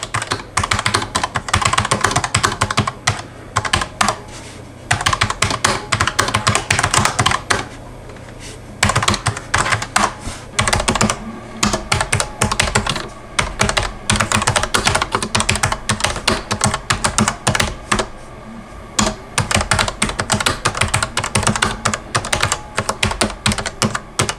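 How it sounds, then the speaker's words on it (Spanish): Rapid, continuous clacking of a GAMDIAS Hermes P3 RGB mechanical keyboard being typed on, close and loud, with brief pauses between bursts of keystrokes. "Vamos con una prueba de sonido del teclado."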